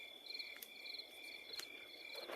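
Crickets chirp loudly in dark woods at night, a steady pulsing trill that carries on without a break over a faint background hiss, with no voices.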